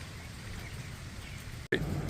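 Steady rain falls outdoors on a hillside gold-prospecting site, a continuous even hiss with a brief dropout near the end.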